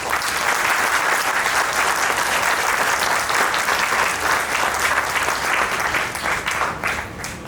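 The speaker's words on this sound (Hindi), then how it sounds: "मैं चाहूंगा इन सभी कलाकारों के लिए जोरदार तालियां हो जाए।" An audience gives the performers of a play about Lord Krishna a long round of applause, the many hands clapping in a thick, even wash that eases off slightly toward the end.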